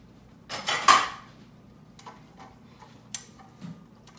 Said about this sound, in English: My black beans that I drained and rinsed, I'm dumping those in